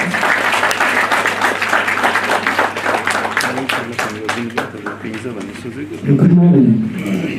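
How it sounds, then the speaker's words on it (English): An audience at a healthcare management seminar in a hotel applauds steadily, dense clapping filling the room throughout and swelling louder near the end, with voices heard over it. "please welcome him with a big round of applause."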